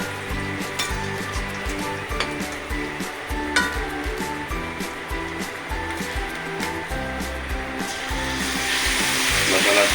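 Steady loud sizzle of spices frying in a pan for fish curry, continuous with small crackles and growing stronger toward the end, no talking.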